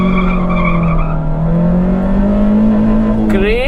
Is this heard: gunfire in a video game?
no